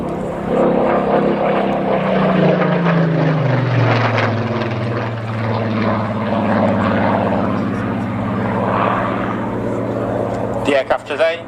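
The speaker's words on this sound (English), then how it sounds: "The aircraft today, PM631, was built at Reading, too late to see service in World War II." Avro Lancaster bomber PM631, built at Reading, flying at an air display at Cosford with Spitfires; a steady, loud propeller-engine drone with a slowly falling pitch as it passes, under continuous commentary from a public-address announcer.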